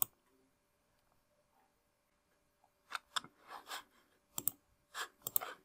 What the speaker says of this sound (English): You can click on this.